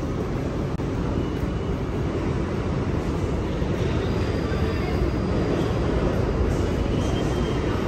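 A New York City subway train rumbles through a station, a dense, loud, continuous roar of wheels and motion, with no talk over it.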